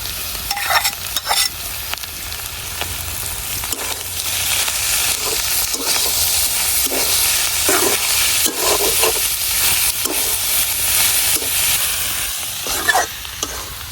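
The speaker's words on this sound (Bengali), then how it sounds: "আর 1 থেকে 2 মিনিটের মতো ভাজি করলে কিন্তু হয়ে যাব।" Spring onion greens and coriander leaves fry in a pan with a steady, loud sizzle throughout, broken by repeated scraping strokes of a spatula stirring the leaves; no one talks over it.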